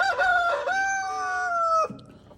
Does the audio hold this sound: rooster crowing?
yes